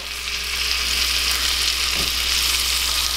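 Food frying slowly in a pan on the stove, a steady, even sizzle that holds at the same level throughout, with no talking.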